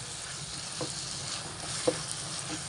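Boiled green peas stirred into a sizzling curry masala in a pan, with a steady frying hiss and a few faint spoon scrapes, close and alone.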